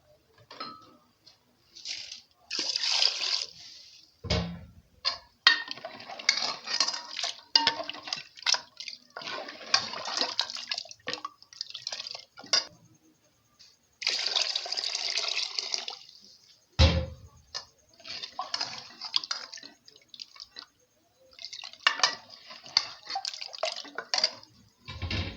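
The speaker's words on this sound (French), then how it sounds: "comme c'est un peu mijoté, je vais rajouter de l'eau" Water is poured into a pot of simmering Algerian couscous, making intermittent splashing and trickling bursts with short pauses and a few drips between them.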